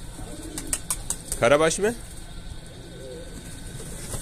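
A flock of pigeons coos softly and steadily in the background, joined by scattered short chirps, while someone speaks briefly over them.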